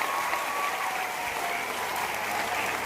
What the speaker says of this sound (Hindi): एक जोरदार तालियां बजाएं सभी के लिए, सभी बच्चों के लिए जोरदार